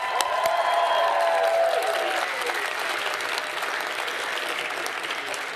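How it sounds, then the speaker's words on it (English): An awards-night crowd at a student television ceremony applauds the hosts, loud massed clapping with some cheering, a brief tonal sweep early on, then the ovation continues steadily and slightly softer. "So a big round of applause for them."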